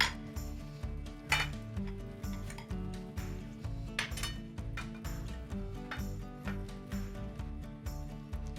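A utensil spreads a black bean mixture across a whole grain tortilla, making repeated soft scrapes and light clinks against a plate in a steady rhythm, close and quiet, over a low background of music.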